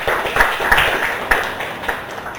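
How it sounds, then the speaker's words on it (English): Applause from an audience at a students' study circle meeting greets a newly introduced speaker, a steady patter of clapping hands lasting throughout, moderately loud and fairly close. "Please welcome her also with loud applause"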